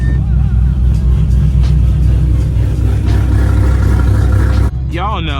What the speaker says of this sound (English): today we are gonna see how loud my straight piped cam Mustang really is